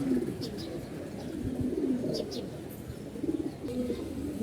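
A male fancy pigeon with feathered feet gives several throaty, rolling coos in a loose repeating rhythm, fairly close, over a murmur of background noise.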